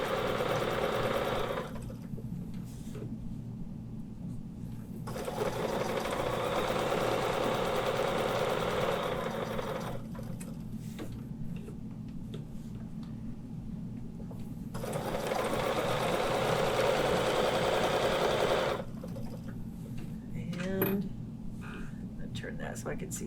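A sewing machine doing ruler-work quilting with a 12-inch arc ruler runs in several long, even bursts of rapid stitching separated by pauses, close and clear.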